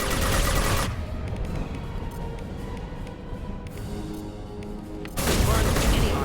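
Heavy gunfire from Mass Effect 2 bursts loudly at the start and again near the end, dense rattling volleys framing a quieter stretch of distant shots and game noise in between.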